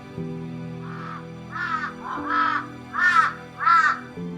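A crow gives a series of five dry, rasping croaks in slow succession, close and clear over a low steady background hum.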